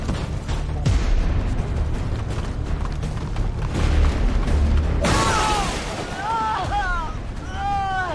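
Explosion in the video game XCOM 2, a heavy booming blast with rumbling debris opening the scene, followed by mechanical game sounds and electronic chirps while players talk over it.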